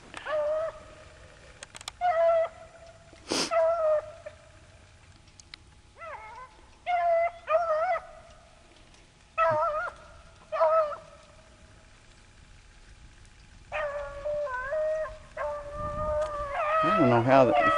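Bluetick beagles bay and howl on a rabbit trail outdoors, in repeated bursts of long, ringing cries from a pack at some distance, with a voice talking in the last few seconds.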